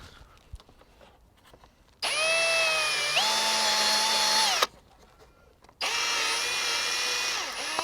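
Power drill enlarging a bolt hole for a washer during a dual battery tray install on a Toyota Prado 2.8L 150 series, two steady whining bursts of drilling with pitch shifts under load, separated by a short quiet pause.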